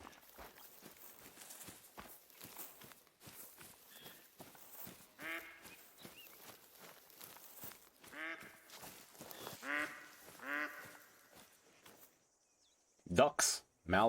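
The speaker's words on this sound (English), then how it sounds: "Ducks, mallards." Mallard ducks in theHunter: Call of the Wild quack in a few short, nasal bursts, spaced out under a voice and soft footsteps.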